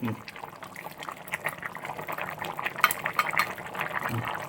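Kerala-style chicken stew with coconut milk bubbling steadily in a pot, a soft continuous simmer with occasional louder burbles beneath quiet background sound.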